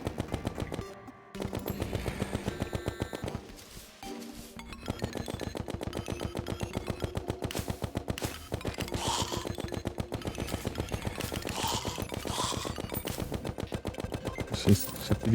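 A shotgun firing in Terraria: rapid, evenly spaced shots repeat almost nonstop, loud and close, with only a couple of brief pauses.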